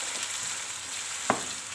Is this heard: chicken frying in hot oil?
yes